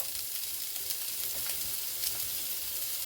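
Small chopped onion sizzles with cumin seeds in a pan. The hiss is steady and close, with faint stirring scrapes and no voices.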